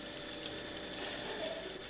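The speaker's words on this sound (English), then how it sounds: "The tube is kept very cool, so the water vapour condenses and water trickles out the end" Distilled water trickling from the end of a cooled condenser tube in a lab distillation setup, a faint steady watery hiss with no talk.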